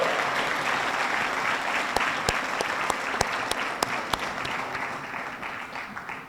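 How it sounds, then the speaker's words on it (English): An audience at a police department's annual awards ceremony gives sustained applause, a steady roomful of clapping with a few louder, sharper claps standing out nearby before it gradually tapers off. "Let's give them a big round of applause for that."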